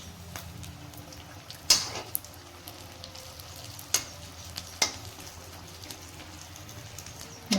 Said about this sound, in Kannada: ಈ ಥರ ಎಲ್ಲ ಕಡೆನೂ ಚೆನ್ನಾಗಿ ಫ್ರೈ ಆದಂಗೆ ನೀವು ಮೆಣಸಿನ್ಕಾಯಿನ ಕರ್ಕೊಳ್ರಿ